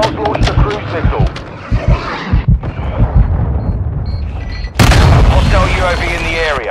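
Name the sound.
cruise missile strike exploding in a video game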